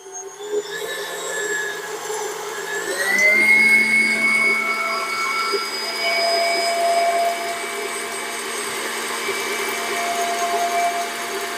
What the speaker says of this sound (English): We're going over to the stand mixer. All right, and we're gradually going to turn this up.